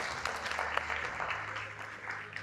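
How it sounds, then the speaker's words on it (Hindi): Audience applause at a live Indian Independence Day concert show, a steady broadband patter of many hands clapping throughout, moderately loud with a faint low hum beneath. "आप लोग अपने लिए एक बार ताली बजा सकते हैं"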